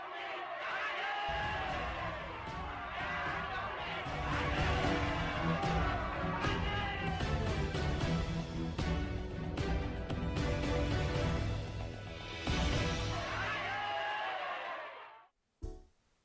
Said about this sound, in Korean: 그날 대한민국 사람들이 외치는 기쁨의 함성 소리를 여러분들 들으신 적이 있나요?